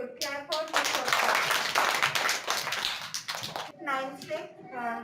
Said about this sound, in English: Clap for Mustafa.